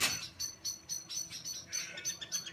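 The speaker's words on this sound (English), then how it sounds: "those little blackbirds certainly don't like that kookaburra." Small blackbirds scold a kookaburra with a rapid run of sharp, repeated high chirps in even bursts, close and clear, with no voices.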